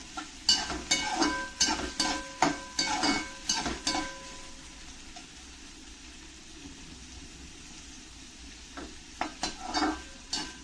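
Okra and green chillies stir-fried in a pan over a high flame: a run of sharp spatula scrapes and knocks over a soft sizzle, a quiet pause, then a few more quick strokes.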